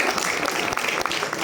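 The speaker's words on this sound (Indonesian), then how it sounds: "Tepukan luar biasa untuk mereka ini" A large audience at a business forum speech in Kuala Lumpur claps in a dense, steady wash of applause.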